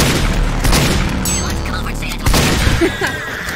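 Gunfire and explosions in Team Fortress 2 form a loud, dense, continuous barrage with booming blasts and rapid shots, swelling again near the end, with a voice mixed in.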